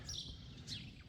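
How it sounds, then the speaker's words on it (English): Birds chirp and tweet in quick, bright calls close by in a quiet Spanish town in the early morning, with no talking. "except for there's a lot of birds chirping."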